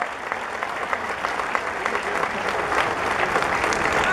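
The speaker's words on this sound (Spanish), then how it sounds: "Un aplauso para los 35 diputados." Dense applause from a large crowd at a national political party congress in Mexico, steady and continuous throughout with some cheering mixed in, filling the hall at moderate loudness.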